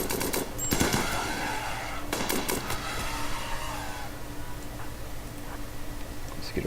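Rapid gunfire rattles in a RimWorld colony battle, with dense bursts of shots and clicks early on that thin out over a constant mechanical background hum.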